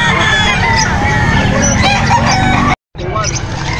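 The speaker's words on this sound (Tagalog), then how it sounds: "Mga kamanok, meron din dito." A rooster crows loudly and close by at a busy pet market in Angeles City, with clucking fowl around it, a brief break, then more calls and market noise.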